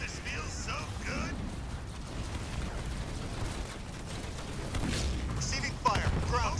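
Ground troops fire on a unit in the Halo Wars 2 real-time strategy game: rattling gunfire and heavy booming blasts, with a louder burst near the end, under spoken game voice lines.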